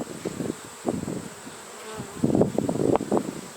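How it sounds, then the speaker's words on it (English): Honeybees buzz around beehive boxes outdoors while two hives are being combined, a dense, continuous droning hum that swells and fades in bursts close to the listener. "You got bees trying to come back."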